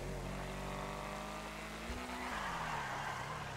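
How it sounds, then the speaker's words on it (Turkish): In GTA Online, an Omega car drifts on a rain-wet road with a steady engine drone and a rising, sliding tire squeal through the middle of the slide, with no speech. "Bakın arkadaşlar nasıl kayıyor ya,"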